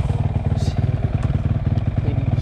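A dirt bike engine runs close by with a steady, rapid chugging pulse and some mechanical clatter throughout.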